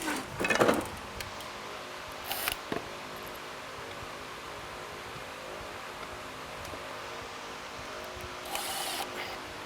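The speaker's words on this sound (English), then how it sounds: "I'm not torquing these down real hard, just when they snug and stop." A ratchet snugs bolts while a cat scratching pad is assembled, giving a few short clicking bursts near the start and again at the end, fairly close but quiet, with a low background hush between.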